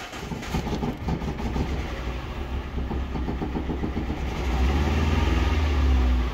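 A car engine, unused for a week, catches and runs, a dense low rumble that builds and grows heavier toward the end, with steady rhythmic pulsing close by.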